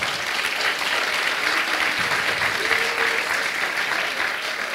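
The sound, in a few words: audience applause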